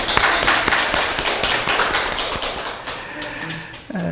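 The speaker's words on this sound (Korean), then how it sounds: "박수!" Applause from a church congregation welcoming a returning member during a Sunday worship service, a dense patter of claps filling the room and gradually thinning out toward the end.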